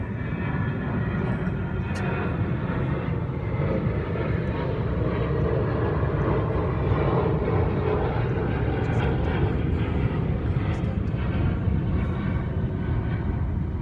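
A fixed-wing airplane flies overhead, its engine roar a continuous, loud broadband rumble lasting throughout without pause.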